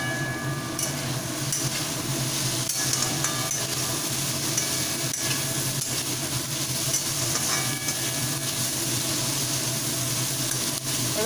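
Potato fry sizzles steadily in an uncovered pan with a continuous dense hiss and occasional faint scrapes, and no talk.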